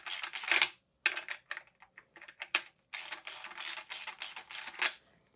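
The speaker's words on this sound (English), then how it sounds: "Grab our wrench, our ratchet. Screw them down as much as you can until it's hard." Ratchet wrench tightening bolts on a RockShox SID Ultimate 35 C1 bicycle fork during a service, heard as bursts of rapid, close metallic clicking with short pauses between strokes and no talking.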